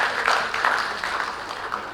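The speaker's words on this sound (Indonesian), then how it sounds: "Tepuk tangan untuk Pak Aris." Applause from an audience at a book and song launch event for child protection, broadband clatter filling the short stretch at steady, moderate loudness without a break.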